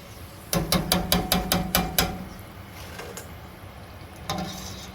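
Crispy fried food tossed into a bowl gives a quick burst of about eight dry rattling clatters up close, then quiet kitchen background and a brief final rustle.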